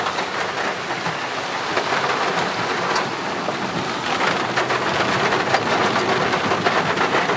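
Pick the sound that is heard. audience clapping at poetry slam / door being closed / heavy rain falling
heavy rain falling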